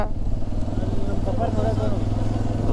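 A motorcycle engine drones steadily throughout with a low rumble while riding through Bandipura forest, while a voice talks over it.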